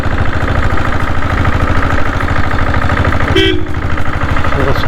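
A Diesel Bullet Black Monster 7.5HP motorcycle engine runs close and loud with a steady, fast thumping pulse, and a short horn toot cuts in near the end.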